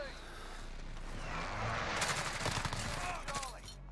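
Rapid gunfire in Modern Warfare from a Grau 5.56 rifle, a dense crackling burst of shots swelling midway and fading, fairly faint under a low rumble, with a voice nearby.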